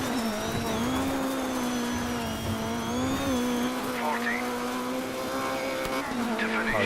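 An off-road buggy in the Dirt 3 racing game drones at steady high revs, with slight pitch wobbles and brief tire scrabbles over the engine's continuous whine.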